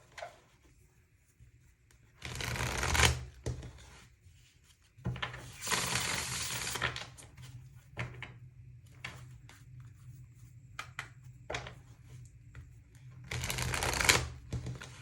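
Tarot card deck being shuffled, three loud riffling bursts of cards spaced several seconds apart, close and crisp, with quieter handling and light tapping of cards between them and no talking.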